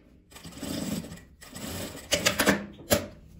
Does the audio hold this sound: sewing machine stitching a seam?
yes